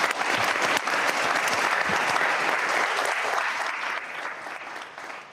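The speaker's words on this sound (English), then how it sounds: "So I think that deserves a little applause" An audience at a school district board of education meeting breaks into applause, a dense, steady clapping from many people that holds strong before gradually tapering off toward the end.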